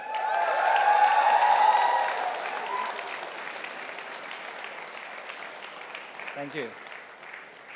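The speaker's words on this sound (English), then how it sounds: "a big round of applause for the ColorOS team for making it possible" Audience applause at the ColorOS 7 global launch event in India, broad crowd clapping that swells loudly at first, then tapers off into a softer patter, with a brief voice speaking near the end.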